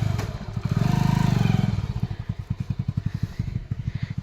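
Motorcycle engine leaving a farm field, rising to a steady drone and then settling into a rapid, even putter of pulses as it rides off, close and fairly loud.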